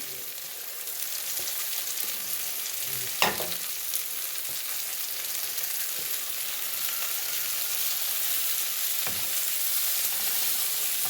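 Finely chopped red and green capsicum sizzle in a hot pan, a steady crackling fry with occasional stirring clinks, close by and alone.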